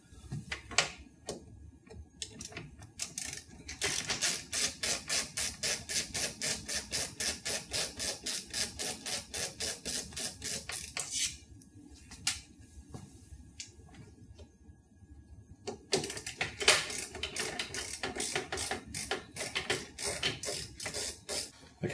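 Screws are backed out of the fuser unit of an MXC250/MXC300 Neo multifunction printer, giving long runs of rapid, evenly spaced mechanical clicks, close and fairly loud, broken by a short lull midway and then resuming.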